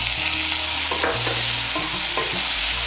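Chopped tomato goes into onions fried red in hot oil for an egg dal and is stirred, bringing loud close sizzling and repeated scraping strokes of a spoon against the pan, with no talking.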